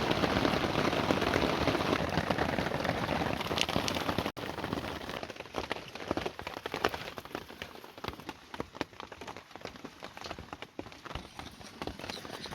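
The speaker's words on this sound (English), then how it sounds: "It's extremely wet. It's been raining all day and it's quite nice just chilling out in the tent." Rain falls on a tent in wet Fiordland weather, a dense patter of drops that turns into sharper, more uneven ticks and taps partway through, with no talking.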